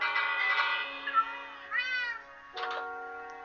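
A cat in a video game meows several times, with a few separate plaintive meows rising and falling, clear and fairly close, with no talk over them.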